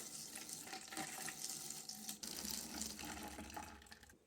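A white wine mixture for a hornet trap pours steadily into a bottle as a faint, continuous trickling splash with a brief break midway.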